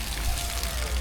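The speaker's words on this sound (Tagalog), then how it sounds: "umuulan na rito" Steady rain patters and hisses across the whole second at a mountain campsite, a dense broadband wash with a low rumble underneath and no voices.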